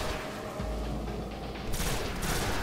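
Gunfire in Destiny: The Taken King during a Nightfall mission, a dense, steady crackle of shots with a brighter burst near the end, with no talking.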